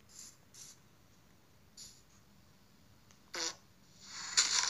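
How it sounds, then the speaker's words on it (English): Several short, bright fart-like blips from a pooping chicken in a Minecraft Pocket Edition poop mod, scattered and faint at first, then a louder, longer burst at the end. "Do you hear the fart? Oh, the chicken just pooped."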